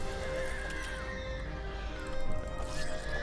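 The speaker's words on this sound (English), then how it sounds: "Stop making horse sounds, you fucking freaks." A horse-like creature in the video game Starbound neighs and whinnies loudly over a steady game soundtrack, with a louder burst of whinnying near the end.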